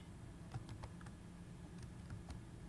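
Quiet, close keystrokes on a computer keyboard as code is written, a short run of irregular taps in a few small bursts.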